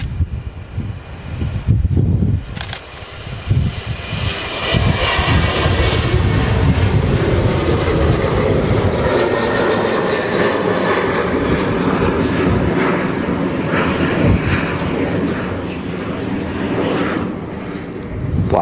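A Ryanair jet lifts off runway 23R at Manchester Airport, its engines roaring in a loud, sustained broadband rumble that holds steady for most of the stretch, with some wind buffeting on the microphone.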